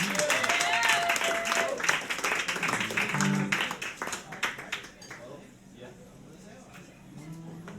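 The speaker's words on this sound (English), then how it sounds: "Big round of applause for you guys coming to the show." A show audience claps and cheers while a host speaks over the applause, which thins out and fades to scattered claps and quieter room sound by the end.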